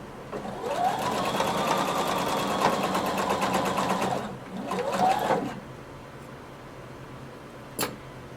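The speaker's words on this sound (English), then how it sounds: "place your needle along the very edge of it and stitch this closed" A sewing machine runs in two bursts, a long steady whir followed by a shorter run, as it stitches closed the turned-in edge of a floor-length duster cardigan, then falls quiet.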